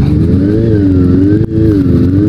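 Kawasaki ZX25R motorcycle fitted with carbon modifications revving, a loud, close, high-pitched four-cylinder wail rising and falling in two smooth sweeps with a brief dip between them.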